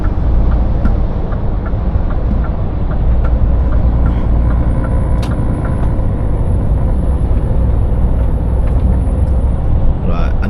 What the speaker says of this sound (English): I'm gonna have to slow down a bit here.